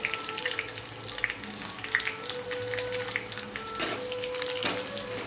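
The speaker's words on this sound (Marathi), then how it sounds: "मस्त असं खोबरं परतून घेतलेलं खोबरं परतलेलं आहे" Grated coconut sautés in a pan for puran poli filling, giving a steady, moderately quiet sizzle with light crackles and the occasional scrape of stirring. No one speaks.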